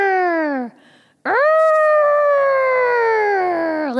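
Voices imitate an elephant's trumpeting in two drawn-out, loud, wavering calls, a short one followed by a long sustained one, with a brief pause between.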